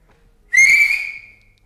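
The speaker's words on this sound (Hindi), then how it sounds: "सीटी भी बनती थी तुम्हारी, आती है तुम्हें? एक बजाओ, बजा दो।" A person whistles one loud, close, sustained high note that lasts about a second and then fades, with nothing else heard around it.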